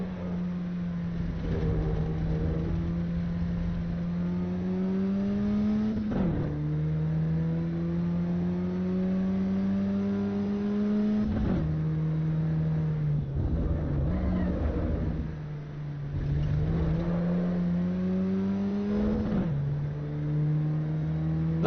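A four-wheel-drive race car engine in the racing game Assetto Corsa Evo holds a droning tone that drops sharply at each gear change or lift, then climbs again, repeating several times at steady volume.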